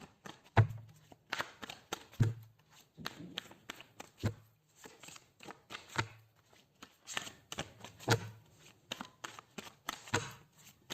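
Tarot cards are shuffled and pulled from the deck in a quiet room, a series of brisk papery riffles and soft slaps repeating about every second or two, close and fairly faint.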